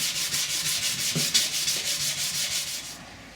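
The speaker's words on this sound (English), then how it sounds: "I'm just generally sanding around the rest of the body" A guitar body, part of a 12-string guitar build, being hand-sanded: steady, close, rhythmic rubbing strokes repeat about every quarter second without pause, dry and scratchy, with no voices.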